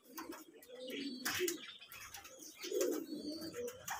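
Pigeons coo inside a loft, with overlapping low throaty calls coming in two clear bursts, close and fairly quiet, mixed with faint chirps and light rustling.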